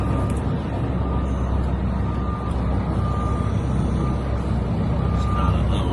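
A dump truck reverses at a barge site in Kentucky, its backup alarm beeping in a steady repeating pattern over a loud, continuous diesel engine rumble.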